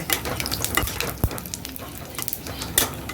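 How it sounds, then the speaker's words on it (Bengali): Potatoes frying in oil with cumin, dried chilli and bay leaf, a continuous hiss of sizzling with scattered clinks of a spoon against the pan, close and moderately loud. "আলু ভাজাটা বসিয়ে দিচ্ছি"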